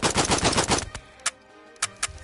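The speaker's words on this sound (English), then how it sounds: "Fire off all of your remaining ammo or press the square button now." In a PlayStation VR shooting game, a rapid burst of automatic gunfire is followed by three isolated, sharp single shots with pauses between, loud and without talk.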